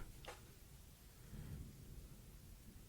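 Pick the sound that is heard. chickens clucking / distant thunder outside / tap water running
distant thunder outside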